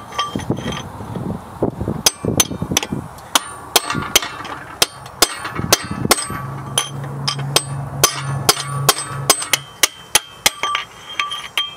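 Repeated sharp hammer blows ring against metal on a seized 1962 American Rambler, steady and fairly close, with a low hum in the middle stretch.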